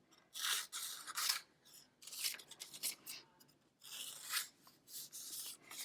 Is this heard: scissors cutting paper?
yes